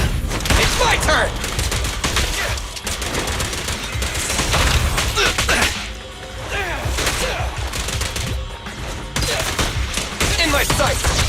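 Rapid gunfire from the video game Zenless Zone Zero crackles in loud, dense bursts with short pauses, mixed with other game effects and sounds.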